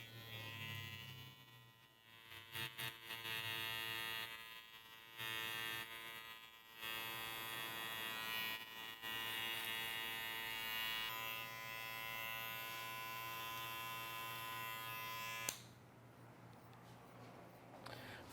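Electric hair clipper fitted with a number 1 comb guard cutting a flattop over the comb, a steady close mechanical buzz running almost continuously with brief dips as the blade lifts, then stopping near the end.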